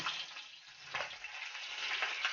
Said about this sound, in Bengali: মাছ ভাজা হয়েছে কিনা দেখবো, দেখে সব মাছ উল্টিয়ে দেবো